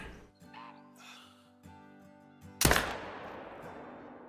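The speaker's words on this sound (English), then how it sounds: "I wouldn't mind going for a 315-yard shot." A hunting rifle shot at a deer about 315 yards away in the hunting video game Call of the Wild, one sharp loud crack followed by a long fading echo, after a stretch of quiet ambient background.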